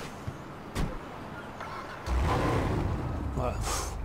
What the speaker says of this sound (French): Donc allez, on va aller démarrer la voiture.